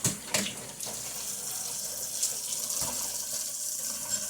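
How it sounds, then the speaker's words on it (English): Tap water pours steadily over canned tuna being rinsed in a sink, a continuous close splashing gush with a few brief louder splashes near the start. "Just to rinse all that off that it's been sitting in."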